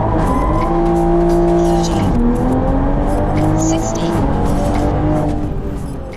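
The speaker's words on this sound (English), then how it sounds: "That was a whole lot of wheel spin." A tuned BMW M340i with the B58 engine launches hard with heavy wheel spin, the engine revving loudly and shifting gears from inside the car while tires squeal, and a voice talks over it.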